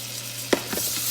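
Ginger drops into a hot pan for chicken adobo, giving a short burst of sizzling and a quick stirring scrape, close and fairly soft.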